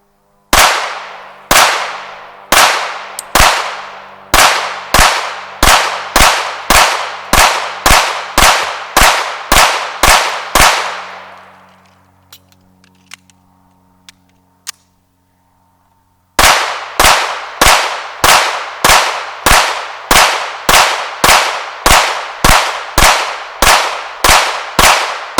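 Shots from a CZ 75 P-01 pistol with a threaded barrel, fired at a target about 35 feet away: a steady string of sharp, loud reports with ringing decay, a pause of several seconds, then another rapid even string.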